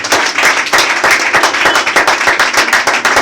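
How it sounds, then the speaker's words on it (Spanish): A church congregation clapping in praise of Christ at a Spanish-language sermon: loud, rhythmic hand claps close by in a quick, steady beat with no speech. "Denle un aplauso a Cristo, mi hermano."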